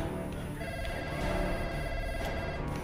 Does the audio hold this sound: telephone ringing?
yes